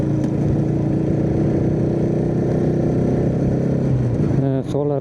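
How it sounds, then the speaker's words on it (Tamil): An NS200 motorcycle on a rough, badly broken road gives a steady engine drone that holds throughout. The pitch sweeps briefly near the end, with wind and jolting noise around it and a voice speaking over it. "வண்டி டப்பு டிப்புன்னுது."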